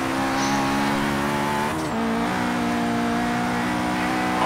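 A Honda S2000 with a VTEC engine revs hard in the racing game Forza Horizon 3, a loud, steady engine note whose pitch dips and climbs again as the car shifts, with no talking over it.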